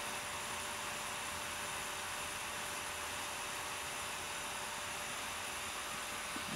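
Brushless motor from a 5.25-inch hard drive spinning at about 6,000 RPM on 24 volts, a steady even high-pitched whine and airy hiss, close and unbroken throughout.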